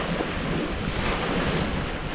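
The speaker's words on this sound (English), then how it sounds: "But wow, the waves are crashing pretty good." Ocean waves crashing on a shore near a seaplane airport, a dense continuous roar of surf mixed with wind buffeting the microphone, loud and steady without speech.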